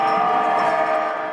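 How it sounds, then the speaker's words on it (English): A Metro Expo Line light rail train in Santa Monica near the beach gives a steady, loud drone of passing rail cars, a broad continuous rumble with no voices. "A train that takes you within walking distance of the beach."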